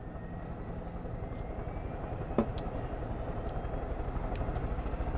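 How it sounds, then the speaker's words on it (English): Steady rotor and engine drone of a helicopter in the video game Far Cry 5, a continuous mid-level hum with a brief thud partway through, heard alone without talk. "There's a helicopter there for me, though."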